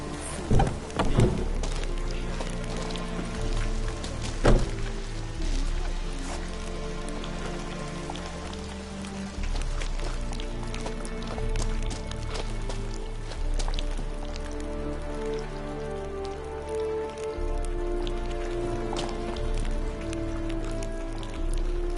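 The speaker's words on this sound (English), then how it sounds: "Looks like rain." Steady rain falls in The Witcher 3 on PS5, a dense continuous patter of drops on surfaces with a few louder splashes early on, alone without talk.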